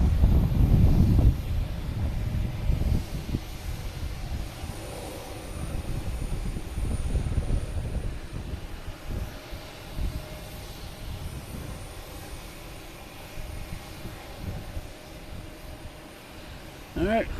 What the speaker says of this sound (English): This is a loud plane.